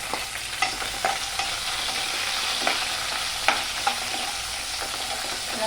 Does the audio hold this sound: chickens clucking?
no